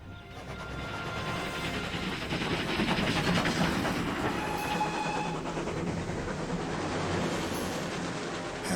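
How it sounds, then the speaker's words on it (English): A train travels on rails in a period action horror film, producing a steady rumbling roll with faint rhythmic clatter and occasional high squeals, with no talk over it. "Have the conductor stop the train just ahead."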